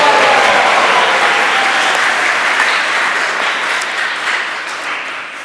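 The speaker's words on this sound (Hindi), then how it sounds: "सब प्रेमलता और तारो माता के लिए ताली बजा के स्वागत करो।" Gathered devotees at a morning aarti discourse in Udhampur clap to welcome two women, a loud, dense and continuous round of applause from the assembled crowd that tapers slightly toward the end, with no talk over it.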